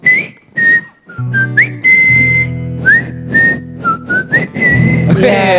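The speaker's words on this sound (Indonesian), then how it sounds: "kita mulai sama bunyi suara manusia yang paling merdu aja dulu, siulan" A person whistles a series of clear, bright notes in short phrases, with gaps between and low background noise underneath.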